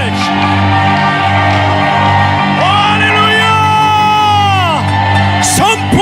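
A church congregation at a Friday worship service roars a sustained battle cry, a loud, dense wall of shouting voices with rising yells that carries over continuous music for the whole stretch.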